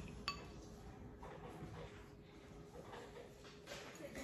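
A utensil stirs egg wash for glazing a brioche, giving a sharp clink against the bowl and then faint, steady scraping and tapping close by.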